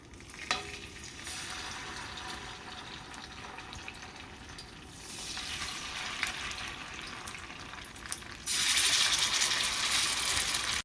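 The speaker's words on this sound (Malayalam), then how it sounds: "നമുക്കതിനെ ഒന്ന് വറുത്തെടുക്കാം." Steady sizzling and crackling of food frying in hot oil, growing louder and hissier toward the end, with occasional clinks.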